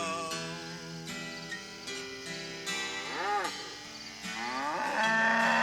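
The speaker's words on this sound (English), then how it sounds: "I'm a werecow. Moo, moo, moo." A drawn-out cow moo with gliding pitch rises over a bouncy comedy song's music, repeated across the passage amid steady instrumental backing.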